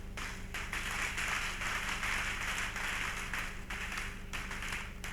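Audience applause at a church sermon, a steady, dense crowd clapping that continues for several seconds at moderate volume, with a faint low hum underneath.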